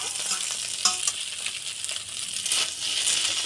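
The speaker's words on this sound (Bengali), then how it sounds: "এবার ডিমটা দিচ্ছে আর" An egg dropped into a hot frying pan for pasta sizzles loudly and steadily, with close crackling and a few scraping stirs over the constant hiss.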